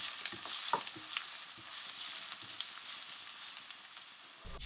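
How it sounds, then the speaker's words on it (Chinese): Diced shiitake mushrooms stir-fry in a generous pool of hot oil for a Shanghai vegetable bao filling, giving a steady close crackling sizzle with scattered sharp pops and light stirring scrapes and no voices. "煸炒至比较干香的状态"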